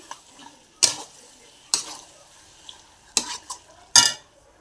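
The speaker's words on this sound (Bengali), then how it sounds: "ম্যারিনেশন করা মাংসগুলো দিয়ে দিচ্ছি। আবার নেড়ে চেড়ে নিচ্ছি" Marinated chicken being stirred in a pot for a spicy chicken kosha, with four separate scraping strokes against the metal, each a brief sharp burst, over a quiet background.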